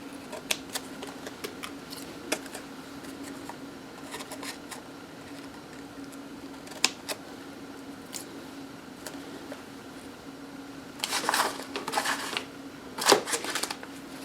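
Material trimmed across a corner for an outlet cover: faint scattered clicks, then a couple of brief, close cutting snips near the end, with no talking.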